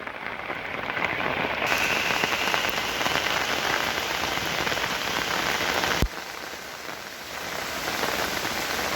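Rain falling on the ground outdoors in a village yard, a dense steady hiss of drops pattering close by for the whole stretch, loud and unbroken, with no voices.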